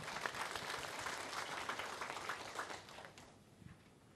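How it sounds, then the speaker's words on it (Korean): Warm applause fills a memorial ceremony hall as a lawmaker is welcomed to give a eulogy, steady dense clapping from a large audience that thins slightly toward the end. "역시 따뜻한 박수로 맞이해 주시길 바랍니다."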